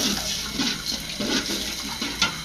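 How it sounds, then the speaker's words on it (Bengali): A small splash of water is poured into spices being fried down for a bamboo-leaf dried-fish bharta, a steady, fairly quiet wash of pouring and sizzling with no talk. "এখন দিয়ে দিবে অল্প একটু পানি মশলাটা কষানোর জন্য"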